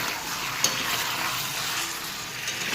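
Chicken frying in a pan makes a dense, constant sizzle heard up close, with one brief metallic tap near the start and no talking.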